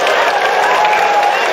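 Crowd at a FlipTop rap battle bursting into applause and cheering, a dense, loud wash of clapping and shouts held throughout.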